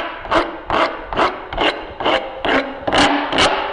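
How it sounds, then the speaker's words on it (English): A coarse file rasps against small wooden shelf brackets in a steady rhythm of about eight strokes, each a close, gritty scrape with short gaps between, no talking. "they're too small to handle on the router table. So one option is to use a file."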